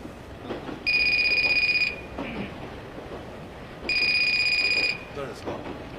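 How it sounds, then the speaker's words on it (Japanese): A telephone ringing in two loud electronic bursts about a second long, separated by a pause, with people talking around them. "電話鳴ってますよ。"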